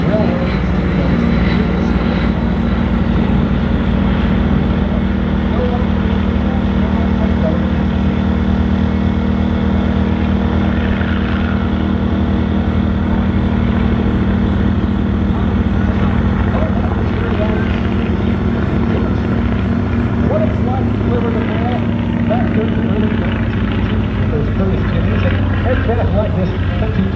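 Vintage airplane flying in at an airshow mail drop demonstration, its propeller engine droning steadily and loudly throughout while an announcer talks over it.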